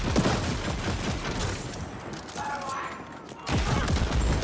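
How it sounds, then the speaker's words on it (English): Grenade launcher blasts fired indoors in The Ascent, a cyberpunk action game: a dense, continuous barrage of loud explosive bursts and crackling detonations that briefly eases, then surges back at full force. "grenade launcher indoors. Really bad idea."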